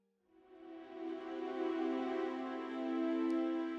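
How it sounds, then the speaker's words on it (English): Sustained bowed strings swell in and hold a rich, steady chord of violas from the Hans Zimmer strings sample library, smooth and resonant with no other sounds. "And just on its own, here are the Hans Zimmer string violas."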